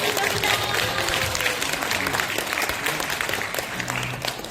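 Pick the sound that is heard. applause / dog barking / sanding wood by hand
applause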